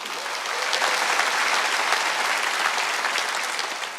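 A church congregation at a Wednesday worship service breaks into applause, a dense wash of many hands clapping that swells in the first half-second and then holds steady and loud for several seconds, with no one speaking over it.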